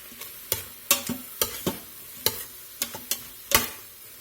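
A spoon stirs onion and garlic powder into jambalaya in an Instant Pot, giving about a dozen sharp scraping knocks at an irregular pace over a low sizzle, close and without voices.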